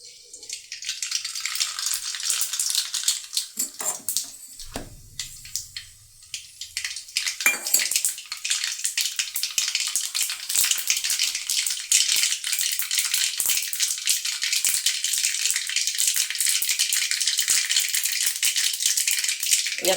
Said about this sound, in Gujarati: આપણું તેલ ગરમ થઈ ગયું છે તો આપણે એમાં 1 ચમચી રાઈ નાખીશું